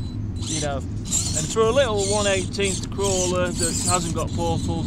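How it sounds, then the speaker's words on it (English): Low steady rumble of traffic from a nearby main road, a continuous wash underneath close, clear talking that dominates the foreground. "sorry about the noise, we're near a main road"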